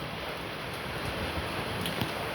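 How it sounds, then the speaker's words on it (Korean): Heavy surf rolls in at Songjeong beach during a typhoon, a broad, continuous roar of wind-driven waves with no pauses. "지금 파도는 파도는 지금 꽤 일어나고 있습니다."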